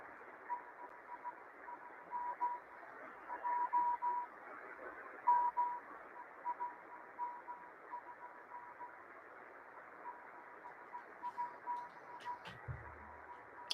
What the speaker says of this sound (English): That's the Morse code of the M12 number station from Moscow, Russia.